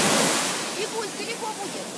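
Ocean surf off Ceylon, a broad, loud hiss of breaking waves that fills the clip, with a voice speaking faintly over it.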